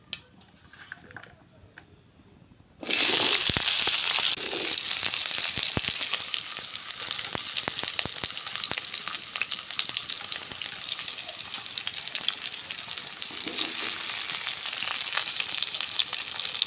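Onions drop into hot oil and a loud, steady sizzle of frying takes over, crackling and popping continuously with occasional stirring sounds.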